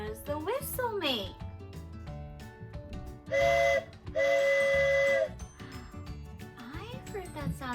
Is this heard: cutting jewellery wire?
no